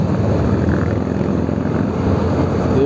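Indian motorcycles riding past on a road near Gurgaon, a steady, close engine roar with a low rumbling drone that holds loud and even throughout, without speech.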